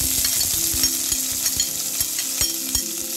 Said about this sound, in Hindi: इसमें हम डालेंगे अभी प्याज।